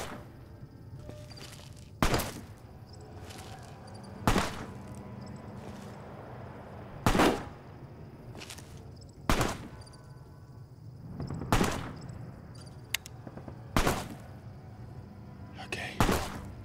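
Single gunshots in Fallout New Vegas crack at a steady pace about every two seconds, each a sharp loud report standing out over quiet background sound and occasional speech.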